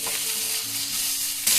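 Soybean chunks sprinkled with salt fry in a pan, giving a steady close hiss and sizzle that swells louder near the end.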